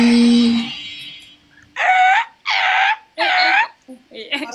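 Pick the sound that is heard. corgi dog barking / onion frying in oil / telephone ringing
corgi dog barking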